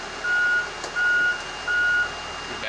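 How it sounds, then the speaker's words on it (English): Three evenly spaced electronic bus reversing beeps, each about a third of a second long, sound over a low idling engine hum. "The backup lights come on, and you can hear the alarm."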